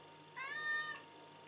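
A cat lets out one clear, drawn-out meow close by in a quiet room, with the start of another call at the very end.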